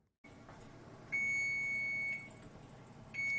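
Kitchen timer beeping while a cheesecake bakes: a bright electronic tone sounds once for about a second, then again briefly at the end, over a faint background hum with no talking.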